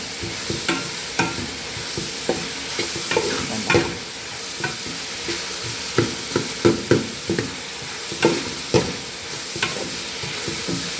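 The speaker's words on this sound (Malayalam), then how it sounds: "വെളിച്ചെണ്ണ ഒഴിച്ചിട്ട് ഞാൻ സവാള ഇട്ട് ഉപ്പും കൂടി ഇട്ടു" Onions stir-frying with salt in coconut oil in a pan, a continuous sizzle punctuated by repeated sharp scraping stirs of a spoon, close up with no talking.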